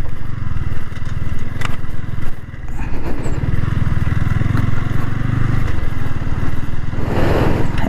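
Motorcycle ridden along a tree-lined road through a rural village, its engine droning loud and steady up close, with slight rises and dips in throttle and wind rumble throughout.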